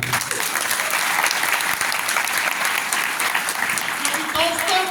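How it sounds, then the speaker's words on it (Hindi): Steady, dense applause from a large crowd at a Modicare meeting fills an indoor hall, sustained at even loudness for several seconds. "अपने लिए एक जोरदार ताली।"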